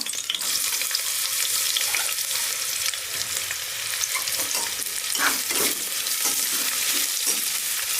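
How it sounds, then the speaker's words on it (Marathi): Finely chopped onion with bay leaf and chili fries in a pan for Maharashtrian masala bhat, a loud, dense sizzle broken by repeated scraping stirs, close and steady throughout. "आपण छान परतून घेणार आहोत सोनेरी रंग येईपर्यंत। कांदा परतून झालेला आहे"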